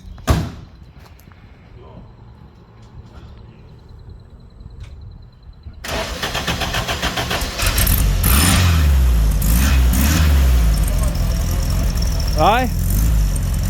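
A custom Karmann Ghia convertible engine catches at about six seconds and then idles steadily and loudly, close by, after a quiet start with a door-like clunk; someone talks briefly over it.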